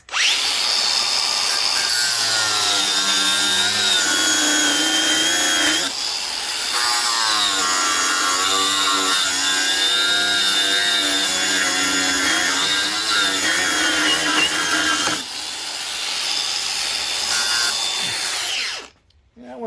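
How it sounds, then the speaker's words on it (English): An angle grinder whines loudly and continuously, its pitch dipping as it bites into metal rivets on van engine mounts, with brief pauses between cuts. "both of these have rivets, so I got to use the grinder"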